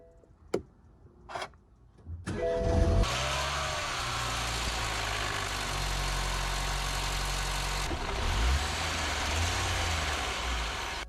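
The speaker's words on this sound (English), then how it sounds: "After the cold start, I noticed the engine was running really rough" A few sharp clicks and thumps, then a car engine cold-starts and settles into a steady, loud idle that sounds uneven and lumpy throughout, running rough.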